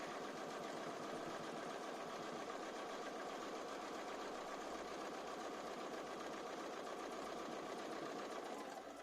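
A Bernina B590 sewing machine stitching quilt-as-you-go, a steady rapid mechanical whir and needle chatter running continuously at close range.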